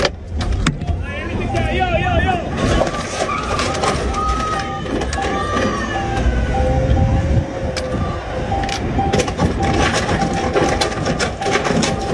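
A stolen tow truck drives with its engine running, a steady vehicle rumble mixed with rattles and clicks, heard under overlapping talk for several seconds.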